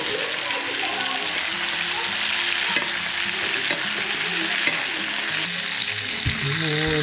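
Steaks sizzle and fry in a pan with butter being spooned over them, a continuous bright crackling hiss with occasional pops and spits, close and steady throughout.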